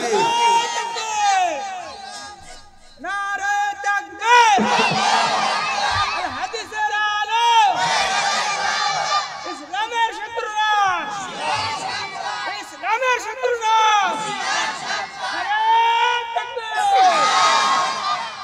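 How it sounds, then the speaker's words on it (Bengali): A large crowd roars a takbir chant in loud, repeated surges at a Bangladeshi religious gathering in Sirajganj, mass voices rising and falling in waves across the whole stretch. "আল্লাহর তাকবীর দিলে খুশি হবেন কে?"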